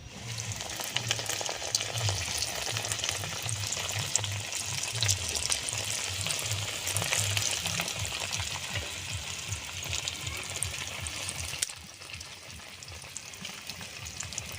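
Bread frying in boiling hot oil, a dense continuous crackling sizzle heard close for a long stretch, easing slightly toward the end with some faint clatter underneath.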